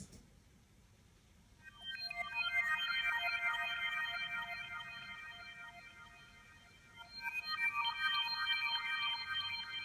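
Granular synth pad from the Vital synthesizer, dry before EQ and reverb: a shimmering, glittery high tone swells in, fades, and returns, over a soft noisy hiss, quiet and without voices.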